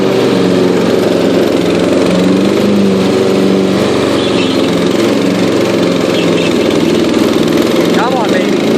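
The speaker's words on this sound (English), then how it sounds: "It's good to let the motor work a little bit, especially after a carburetor rebuild." A Yard King riding lawn mower runs steadily with a freshly rebuilt carburetor, its engine droning loud and close throughout while someone talks over it.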